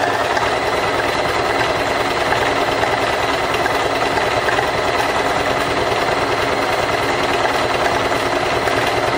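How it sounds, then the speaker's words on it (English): A sewing machine stitching circles into fabric, running continuously at a steady fast pace, loud and close, with no pauses or voices. "you can encroach onto this fabric with your machine stitch circles"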